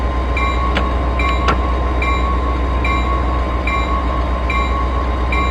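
MARC Penn Line commuter train running between Washington DC and Baltimore, heard from onboard as a steady, loud rolling rumble on the rails, with faint recurring clicks and metallic tones throughout and no voices.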